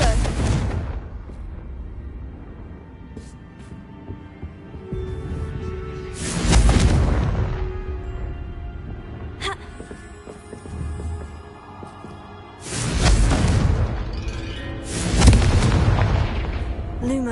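Confringo blasting spell explosions in the Hogwarts Legacy video game: several heavy booming blasts across the stretch, the first near the middle and a tight pair later, each with a short rumbling decay over quieter game ambience.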